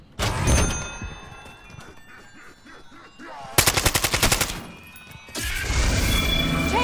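A custom weapon firing in the video game Call of Duty, with an opening blast, then a quieter stretch with scattered impacts, then a fast rattling burst of automatic fire and a loud sustained volley near the end.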